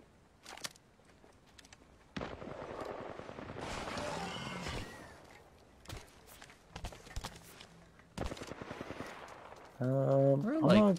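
Sharp, scattered bursts of video game gunfire crack out in several clusters under ongoing chatter, with louder volleys near the middle and end among footstep-like thuds.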